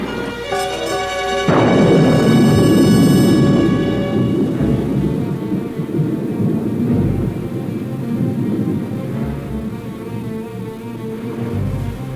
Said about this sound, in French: On dirait que l'orage s'éloigne.